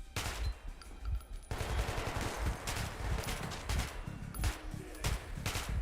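Rapid gunfire in the shooter Metro: Last Light, dense bursts of loud close shots in quick succession filling the whole stretch with no voice over them.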